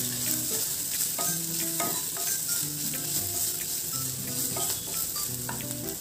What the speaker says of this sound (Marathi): आलं व हिरवी मिरची क्रश केलेली घालणार आहोत. पुन्हा एकदा परतून घ्यायचे आपल्याला.